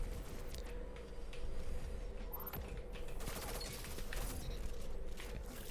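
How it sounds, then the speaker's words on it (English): Linear fusion rifle fire in a video game, dense sustained crackling bursts and booming shots over a steady rumbling bed, loud and continuous without a break. "That is a linear fusion rifle."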